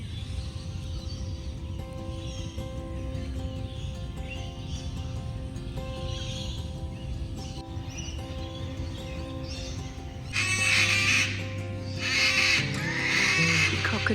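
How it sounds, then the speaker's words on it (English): Cockatoos give alert calls from the trees in Bunyaville Conservation Park near Brisbane, harsh screeches at moderate distance over a soft bushland background, with louder raucous bursts near the end. "Cockatoos up there."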